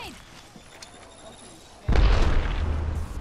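A grenade explodes in a video game, one sudden loud boom that rumbles on with a heavy low-end tail after a quieter stretch of game noise.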